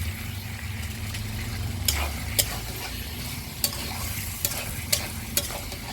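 Potatoes sauté in a pan with a steady sizzle, broken by a handful of sharp scraping strokes as they are stirred close by.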